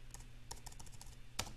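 Quick, light clicks of typing on a computer keyboard, in a short burst and then a louder cluster of keystrokes, close but faint over a low steady hum.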